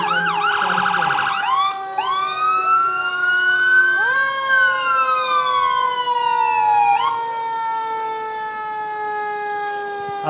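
A fire engine siren wails loudly and continuously in a Fourth of July parade in Edmonds, its rising and falling tones layered over one another as several sirens sound together.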